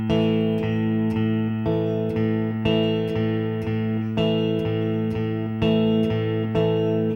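Electric guitar playing a steady eighth-note pattern with sharp percussive accents and muted chops, loud and close, with no voice over it.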